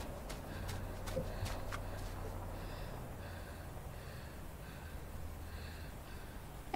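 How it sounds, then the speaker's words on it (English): A boy pants steadily while moving through the woods in the video game INSIDE, soft and close, with quiet ambient rumble beneath and a few faint clicks at the start. "Boys panting. You can hear that."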